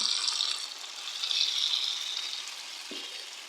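Fried coconut crackles and sizzles as it is poured into jackfruit payasam, a loud close frying hiss that swells and fades, with a soft knock near the end and no talk.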